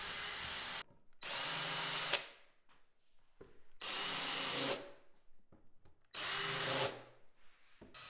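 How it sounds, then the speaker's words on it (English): A power drill bores pre-drilled screw holes into plywood in three separate loud bursts of several seconds each. Each burst whines steadily and ends abruptly, with quiet gaps between them. "Next, I'll pre-drill all my screw holes about 12 inches apart"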